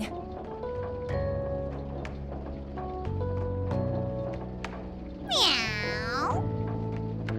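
A cat gives a single clear, rising-and-falling meow near the end, loud and close over continuous background music.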